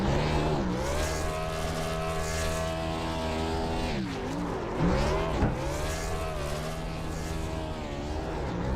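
A race car in a racing video game revs hard through a burnout, its engine holding a loud, sustained droning note with rising and falling pitch sweeps, close and continuous with no talk over it.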